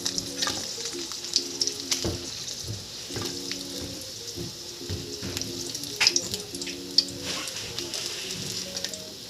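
Fish frying in a pan, a close, continuous sizzle and crackle with occasional sharper pops, no voices over it.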